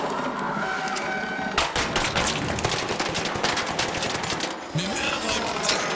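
Rapid automatic gunfire in the shooter game Arc Raiders rattles in loud, sustained bursts with short pauses between them, and no voices can be heard over it.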